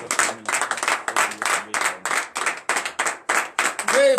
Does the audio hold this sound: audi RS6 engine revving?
no